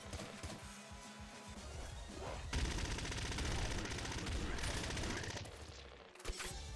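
Explosions and gunfire in the video game Nuclear Throne (Ultra Mod), a dense, continuous barrage of rapid shots and blasts that swells midway and stays fairly quiet overall.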